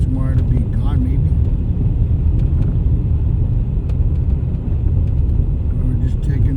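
A car drives slowly over snowy roads in a blizzard in Utqiagvik, Alaska, making a constant deep rumble of engine and tires inside the cabin. Muffled voices talk at times under the steady drone.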